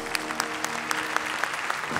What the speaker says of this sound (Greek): Και ένα χειροκρότημα λοιπόν.